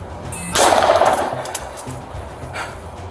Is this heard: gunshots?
yes